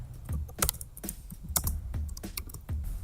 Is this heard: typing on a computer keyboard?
yes